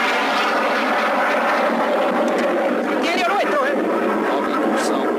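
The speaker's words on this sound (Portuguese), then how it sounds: "Nova incursão de um Harrier inglês." A British Harrier jet aircraft roars loudly and steadily close overhead during the 1982 Falklands War, a dense continuous engine blast, with a voice briefly audible beneath it.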